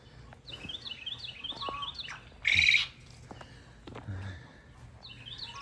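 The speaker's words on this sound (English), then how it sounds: "listen at the birds" Birds chirp and tweet outdoors on a farm on a warm, sunny day. Repeated light calls continue throughout, with one louder, brighter call near the middle over soft background noise.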